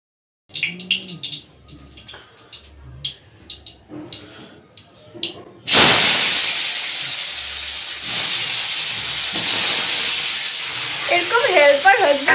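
Cut potatoes hit hot oil in a home kitchen with a sudden loud hiss, settling into a steady sizzle and bubbling fry; soft clinks and handling noises come before it, with some faint voice underneath.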